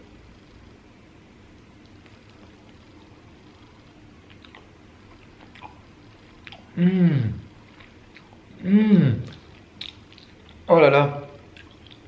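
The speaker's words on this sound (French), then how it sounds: "Et je vais donc croquer là-dedans," Someone bites and chews raw honeycomb from a box, giving three distinct close, wet crunching bites with squishy chewing in between, separated by quiet pauses, with a brief spoken exclamation.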